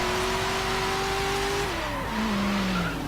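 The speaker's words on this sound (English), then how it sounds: "as you can clearly hear, this thing definitely has V8" A loud V8 engine of a 1996 car in the video game Forza Horizon 3 drones steadily, its pitch sliding down as it shifts, with constant roaring noise throughout.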